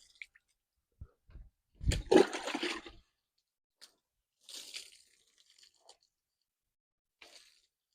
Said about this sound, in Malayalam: ഓരോ വെട്ടം ഇടുമ്പോഴും ഇതുപോലെ നല്ല രീതിയിൽ വെള്ളം കുടഞ്ഞു വെക്കണം